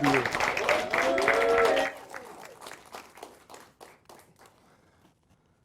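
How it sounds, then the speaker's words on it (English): Crowd applause at a school awards ceremony for the School-Related Employee of the Year, a voice speaking over the opening clapping before it thins out into scattered individual claps and fades to quiet. "Ladies and gentlemen, one more round of applause"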